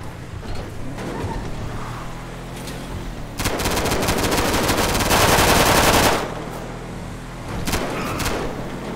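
Rapid bursts of gunfire ring out in a police video game, loud and sustained for a few seconds mid-scene, with quieter game ambience before and after.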